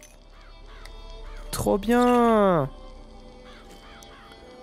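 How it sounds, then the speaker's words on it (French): A harsh, loud crow caw from a thrown crow attack in BioShock Infinite rises out of the game's background noise, with fainter repeated caws around it. Someone speaks briefly just before it. "Oh putain, je peux lancer des corbeaux."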